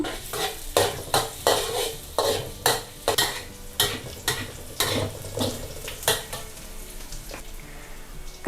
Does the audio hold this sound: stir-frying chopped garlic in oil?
yes